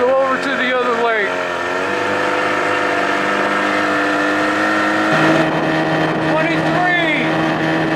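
A 2000 Johnson 25 hp outboard motor runs on a 13-foot Whaler, holding a steady loud drone with a pitch shift partway through and a slight popping in its running, while someone talks over it.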